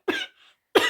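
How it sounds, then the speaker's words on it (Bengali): Two sharp coughs from one person, close and loud, separated by a short pause with a faint breath between them. "সরি, কাশিটা আমার সারা জীবন থেকে যাবে"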